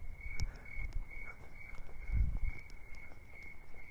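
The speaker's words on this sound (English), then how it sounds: "aren't those crickets wonderful?" Crickets chirp steadily in a continuous high trill pulsing in short repeated bursts, faint and distant, with soft low thumps and rustles underneath.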